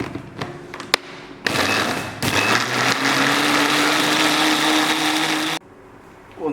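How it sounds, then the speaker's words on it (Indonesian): A kitchen blender grinding soup spices with a little water for chicken soto, a steady loud whir of roughly four seconds after a few knocks, then cutting off abruptly. "Lanjut untuk ke tahap berikutnya buat di blender."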